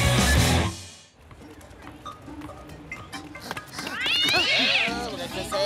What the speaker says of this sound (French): Ah, c'est le chat, il se bagarre encore.